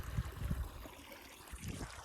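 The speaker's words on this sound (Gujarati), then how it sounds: "અત્યારે ધવલભાઈ વ્લોગરમાં અત્યારે પાણી વારે છે" Irrigation water flows steadily across a field, a low, continuous rushing trickle with a few soft surges near the start and again toward the end, heard alone without voices.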